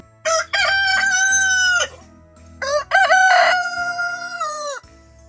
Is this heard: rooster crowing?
yes